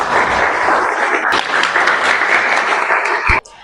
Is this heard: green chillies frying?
no